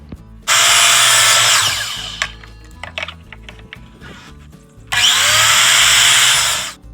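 A DeWalt miter saw cuts the two edges of a piece of trim at a 22.5 degree angle. It makes two loud, whining cuts, each lasting a couple of seconds, and there is quieter handling noise in the gap between them.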